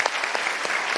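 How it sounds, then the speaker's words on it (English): Studio audience on a daytime talk show breaking into steady applause, dense overlapping hand claps filling the room at a constant, fairly loud level with no voices over it. "So I want to give you a round of applause on that"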